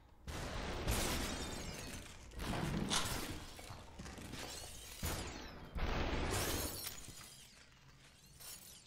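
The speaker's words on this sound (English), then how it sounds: "Is it the glass flying through the bullets?" Glass shattering in SUPERHOT video game, repeated loud crashing bursts of breaking glass and scattering shards, several waves close together, mixed with mechanical clicks and no talking.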